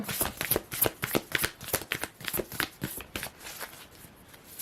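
Tarot cards being shuffled by hand, a steady series of crisp riffling slaps and flutters, close and clear, with no one talking over them.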